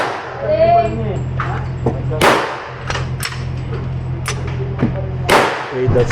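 Several sharp, loud Glock 22 pistol shots crack out at irregular intervals at a shooting range over a low steady hum, with a voice speaking briefly near the start.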